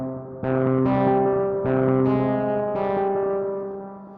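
RIVE aggressive guitar engine plugin playing distorted synth-guitar plucks with a longer release, five loud tonal hits in an irregular rhythm, each ringing out and blending into the next before a fading tail.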